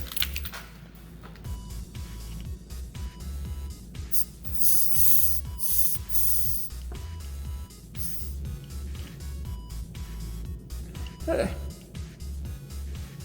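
Refrigerant hisses in short sprays and one longer burst as the AC system of an Escape car is purged, with someone talking over much of it.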